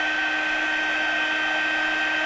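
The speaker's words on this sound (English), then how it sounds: "And to do that, you use a heat tool." An embossing heat tool runs steadily, melting embossing powder on a handmade rose card; a constant, loud, high whirring hiss like a small hair dryer, near and alone without talk.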